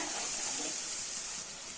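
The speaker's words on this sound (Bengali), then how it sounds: "দেখতেই পাচ্ছ এখন বিনস ভাজা হচ্ছে" Green beans frying in a pan of oil, a soft continuous hiss and sizzle, fairly quiet and steady with no talking.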